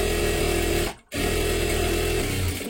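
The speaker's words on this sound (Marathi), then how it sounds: "इथून बरोबर आपल्याला शिलाई मारून घ्यायची" A sewing machine stitches fabric for a puff sleeve, running as a steady, close buzzing whir that stops briefly for a moment, then resumes evenly to the end.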